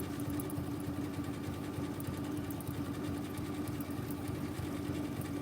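A sewing machine runs a straight stitch on circle designs, a fast steady mechanical whir and needle clatter at low, even level without pause.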